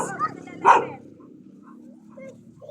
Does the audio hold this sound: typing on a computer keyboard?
no